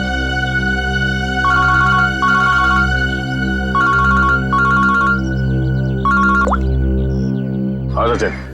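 A telephone rings in a Hindi crime drama scene, five short, bright, electronic ringing bursts repeating at a steady pace, loud over a sustained tense music bed.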